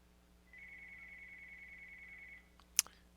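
A telephone ringing in a room during a card game session, a steady electronic trill lasting about two seconds, fairly faint, followed by a sharp click as it stops.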